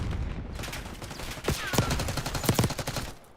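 Rapid, dense gunfire from a Call of Duty esports match, a continuous crackling barrage of overlapping shots with a few sharper, louder reports standing out.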